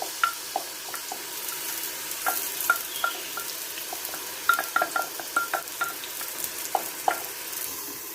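Chopped onions fry in a pan as the start of a couscous dish, giving a soft, steady sizzle broken by frequent sharp little crackles and stirring clicks close by.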